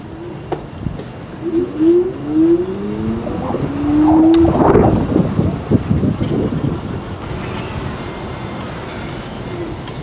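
A Segway GT2 electric scooter accelerating in Race mode at dusk: a rising motor whine sweeps upward in a few short pulls, then gives way to buffeting wind noise and road rumble.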